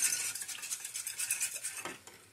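Eggs are whisked briskly in a bowl, a fast, even rhythm of a whisk scraping and tapping, close and fairly quiet.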